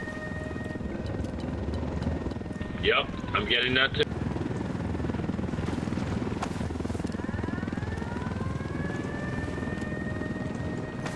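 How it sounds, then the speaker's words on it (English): Helicopter armed with miniguns in a video game set in Bolivia: a steady rotor drone rumbling throughout, with a brief louder burst of sharp mechanical noise in the middle, heard under ongoing talk. "Helicopter with miniguns."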